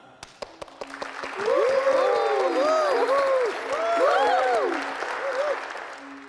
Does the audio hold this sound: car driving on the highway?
no